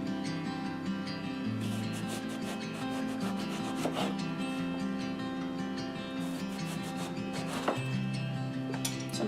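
A knife cuts an eggplant into thin rings about a quarter inch thick, giving steady repeated chopping and scraping strokes on a board, close and clear, with no talking.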